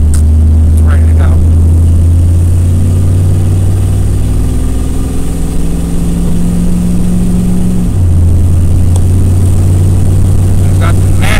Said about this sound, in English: I've got the massive exhaust leak.